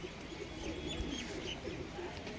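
Pigeons at a pigeon club loft coo faintly in the background, soft low murmurs beneath a steady ambient hiss.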